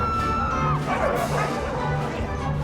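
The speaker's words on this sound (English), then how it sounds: "But suddenly, several stray dogs break into the concert hall." Several stray dogs bark and yip inside a concert hall during a film scene, the barks mixed with crashing movement and dense background noise, loud and close.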